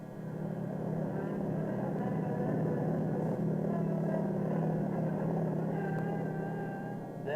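Lockheed P-38 Lightning fighter engines at full throttle in 1942 wartime archival film footage: a dense, steady droning roar that stays loud and unbroken throughout.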